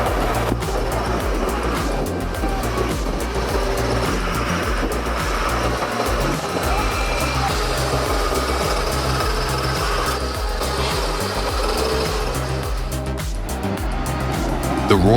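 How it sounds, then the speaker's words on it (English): A heavy off-road truck engine roars steadily and loudly, its low rumble continuous and close, with rattling and mechanical clatter mixed in, as the truck works during a risky rescue with logs. "The roar of the truck engine echoed."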